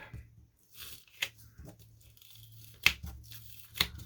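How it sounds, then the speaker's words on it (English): Masking tape being torn and pressed onto a plastic comic book bag makes a few sharp ripping tears and soft crinkles of plastic, close and quiet, with pauses between. "All right, so we'll do the masking tape next."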